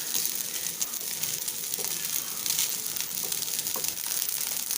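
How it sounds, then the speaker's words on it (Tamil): Vegetable fried rice sizzles steadily in hot oil in a pan, a continuous crackling hiss with occasional light stirring scrapes. "அந்த ஆயிலில் வந்து ஃப்ரை ஆகணும் இந்த ரைஸு."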